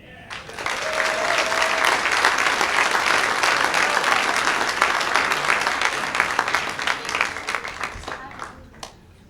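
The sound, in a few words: audience applause for a comedian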